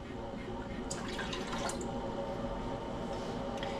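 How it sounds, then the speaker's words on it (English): A cup of water pours into a cooking pot in a home kitchen, a continuous splashing trickle over a steady background hiss, with a few brighter splashes partway through. "I am going to add a cup of water to this pot."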